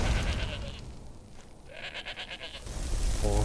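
A goat in the Skyrim video game bleats loudly and up close, a short wavering call with no talking over it.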